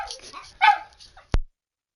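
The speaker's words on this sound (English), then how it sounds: "Sorry about that, dogs were going off" Dogs bark in a short cluster of sharp, yelping calls, fairly close, ending with a loud thump before silence.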